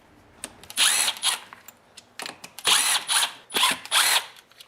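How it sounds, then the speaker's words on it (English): An impact driver with a T20 screw bit backs screws out of a defective snowblower transmission, several loud, close whirring bursts separated by short pauses. "I'll be using my impact with a T20 screw bit."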